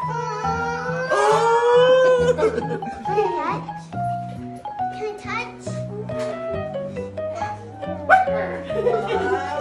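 A dog barks in short yips among several children talking excitedly at a small home zoo of pets.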